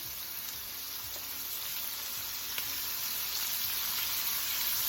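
Jerk shrimp sizzle in a hot frying pan, a steady close crackling hiss with occasional small pops and faint utensil taps, with no talking.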